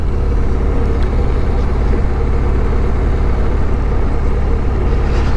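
A Harley-Davidson Street Glide motorcycle ridden in second gear at about 20 mph, its engine giving a steady, loud, low rumble with no let-up and no voices over it.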